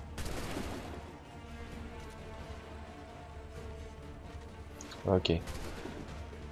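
Gunfire during a battle in Assassin's Creed III, a distant rumble of musket shots beneath low game noise, then a louder close burst of a few rapid shots near the end, with a brief word spoken.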